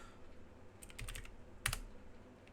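Keys tapped on a computer keyboard while coding, a short scatter of clicks and then a sharper cluster of strikes, quiet and close, with no voice.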